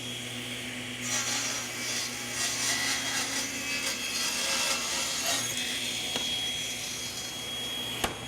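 Table saw cutting through wood with a miter gauge in a woodshop: a steady whining motor drone with a rougher rasping cut layered on top for several seconds, ending in a short sharp knock.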